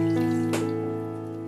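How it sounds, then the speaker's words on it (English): Water poured from a measure into a deep vessel holding white sugar for homemade orange squash, a short close splash and trickle over a steady low hum, with no talking. "Adding 500 ml of normal water."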